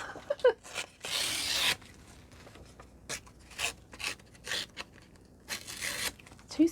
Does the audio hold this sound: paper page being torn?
yes